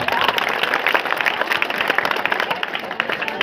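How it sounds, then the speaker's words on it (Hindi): Audience applause at an award and felicitation ceremony, with dense, steady clapping filling the whole stretch and a crowd's murmur mixed in. "जोरदार तालियां।"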